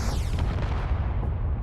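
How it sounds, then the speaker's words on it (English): Rocket launchers on a battlemech in Space Engineers fire in a loud, continuous barrage of overlapping booms and whooshing streaks lasting the whole stretch, with no talking. "These are my rocket launchers."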